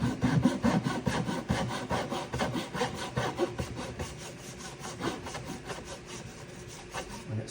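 A hand saw cuts wood for guitar fret slots with steady, rhythmic back-and-forth rasping strokes, close and clear. The strokes are strongest at the start and ease slightly toward the end, with no talk.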